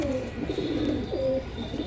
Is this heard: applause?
no